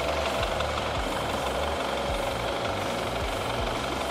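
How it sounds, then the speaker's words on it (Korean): The engine of a BMW 528i F10 M Sport sedan idles in the open engine bay, giving a close, steady, evenly pulsing mechanical chatter with no talking. "엔진 소리 일정하고 좋습니다"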